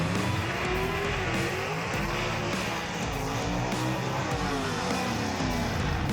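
A drag racing gasser roars loud and close through a competition single run, its engine note rising and falling through gear changes in one sustained, harsh blast.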